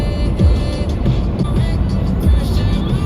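A car driving along a road in Tennessee toward the Smoky Mountains, with steady low engine and road rumble heard from inside, continuous and fairly loud, no talk.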